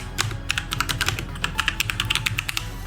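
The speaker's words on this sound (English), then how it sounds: "open up a terminal," Typing on a computer keyboard in a terminal: quick, crisp key clicks in an uneven rhythm, close and clear, with no talking.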